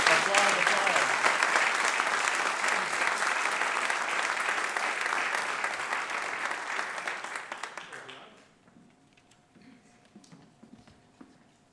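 An audience at the 2019 Gaithersburg State of the City program claps in loud, sustained applause that fades out, leaving a quiet room.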